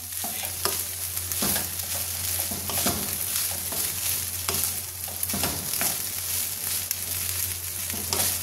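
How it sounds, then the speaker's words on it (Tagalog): Scrambled egg stirred into frying vegetable fried rice in a pan, with steady sizzling under repeated scraping strokes of a spatula, close and moderately loud. "At yan, lagay na natin ang ating scrambled egg. Halo-halo."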